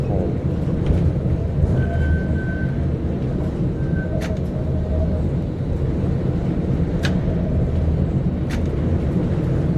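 Vienna tram in the Tramsim video game rolling slowly over points, a steady low rumble with a few sharp clanks and squeals from the wheels on the rails, under occasional talk.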